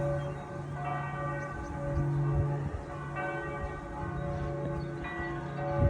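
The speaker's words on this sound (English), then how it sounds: "The other bell you can hear out of sync is the old Roman church that's 11th century" An 11th-century Roman church bell rings out across open countryside, its sustained tolls overlapping another bell out of sync, ringing steadily and moderately near with long humming decay.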